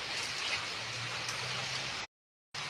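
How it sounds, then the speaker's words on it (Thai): Rain pours in a dense, continuous hiss that cuts out abruptly for a moment near the end before resuming, with no one speaking. "ฝนตกตกอากาศเย็น ๆ นะคะ"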